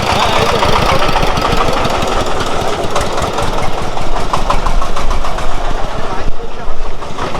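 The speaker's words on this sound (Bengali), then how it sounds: "আমার বাঁদিকে প্রচুর ইঞ্জিন ভ্যান, মানে অনেক বেশি ইঞ্জিন ভ্যান" A close engine van putters and knocks in a fast, steady rhythm while idling, with people talking over it throughout.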